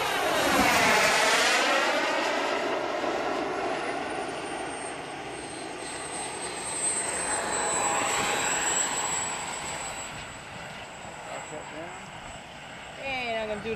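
An A-4 Skyhawk jet makes a low gear pass at an airshow in Kentucky, its loud engine roar sweeping past with strong Doppler shifts, swelling again mid-pass and fading toward the end, with faint voices over it.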